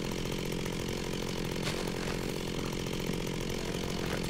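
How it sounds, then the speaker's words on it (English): A chainsaw in Minecraft cuts steadily, a continuous buzzing drone running throughout at even loudness. "Got the chainsaw out, making some room here"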